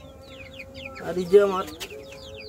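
Farm-raised chickens, a small backyard flock of hens and roosters, cluck in a short burst of soft calls alongside someone speaking close by.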